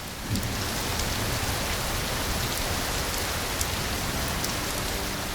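Steady, dense rain pours down continuously in the Luangwa Valley, a broad hissing wash with occasional louder drops, no voices.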